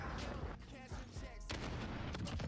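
Sniper rifles fire in a Call of Duty: Modern Warfare custom sniper-only match, with continuous booming game audio and a few louder shots mixed into a dense, steady roar.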